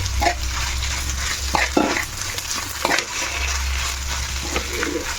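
Mashed potato being stirred into spiced masala in a pan for masala dosa filling, a steady scraping and mixing with soft sizzle and a few sharper knocks of the spoon, close and continuous with no talk.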